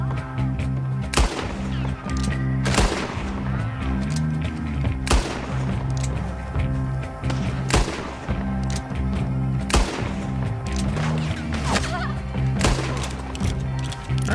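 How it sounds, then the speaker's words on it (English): Gunfire in the Western game Red Dead Online: about six sharp, loud shots at uneven intervals over a dense, steady bed of game ambience and music. "I've shot him 4 times."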